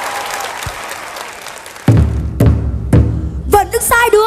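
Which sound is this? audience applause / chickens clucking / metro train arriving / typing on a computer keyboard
audience applause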